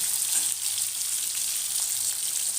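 Pointed gourd pieces fry in a wok with a dense, even, crackling sizzle that holds steady and close throughout, with no stirring strokes or speech.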